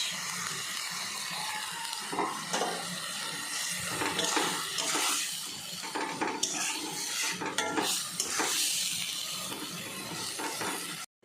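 Fried prawns being stirred into a banana flower and potato curry in a pan, with continuous soft sizzling, scraping and clinks of a spoon against metal, close and busy throughout.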